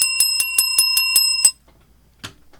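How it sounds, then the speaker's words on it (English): A bell sounds after a correct trivia answer, with eight quick, bright rings in a steady rhythm, loud and close. A brief thump follows after a short pause. "Where's the bell?"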